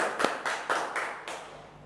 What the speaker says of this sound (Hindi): बिल्कुल तालियां बजाओ वे सभी के लिए जीनियस बने हैं।